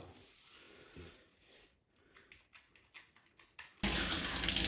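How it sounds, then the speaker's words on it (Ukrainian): Running water rinsing washed hair on a head after a hair transplant, beginning with soft, faint trickles and splashes, then turning into a loud, steady stream of water for the final second. "після того ви змиваєте голову вже повністю"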